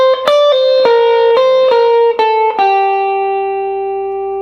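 Distorted electric guitar plays a jump blues lick: a quick run of about eight sharp picked and pulled-off notes, the last one ringing out long with reverb, loud and close with no talking.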